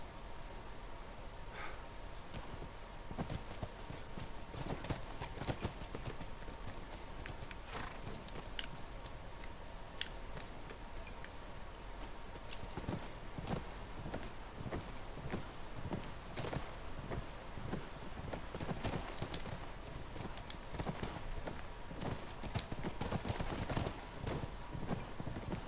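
Horse hooves clip-clop steadily through the whole stretch in The Last of Us, a continuous walking rhythm with occasional snorts over a constant bed of outdoor ambience.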